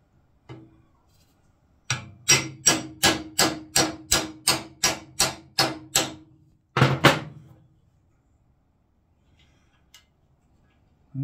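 A hammer strikes a small chisel to break the pin of a steering stem lock on a Honda GL1000 Goldwing, giving about a dozen sharp, evenly spaced metallic blows, then two more after a pause.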